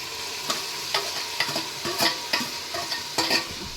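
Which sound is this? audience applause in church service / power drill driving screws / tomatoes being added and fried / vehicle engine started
tomatoes being added and fried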